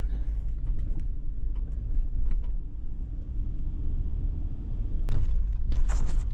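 A car drives across a cable suspension bridge in rural Arkansas, giving a loud, steady low rumble of tyres and engine throughout, with a sharp thump near the end and rattling just after.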